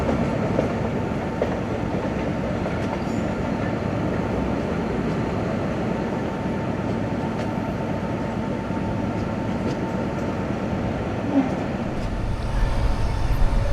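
A passenger train running from Lala Musa to Lahore in heavy rain rolls along the track near a gate signal with a steady, moderately loud rumble and soft clickety-clack of wheels, continuing without pause.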